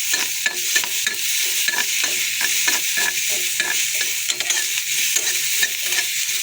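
Chopped tomatoes sautéing in a pan over medium heat for a tawa pizza, a steady close sizzle broken by regular scraping strokes of a spatula stirring the mixture.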